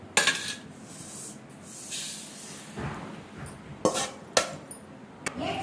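White sesame seeds dry-roasting in a pan at close range, with a soft continuous crackle and scraping broken by several sharp metallic clinks from stirring.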